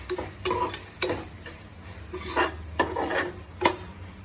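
A spoon stirs rajma pulao in a hot pan, giving a series of rhythmic scraping strokes over a faint sizzle, close and clear with no talk.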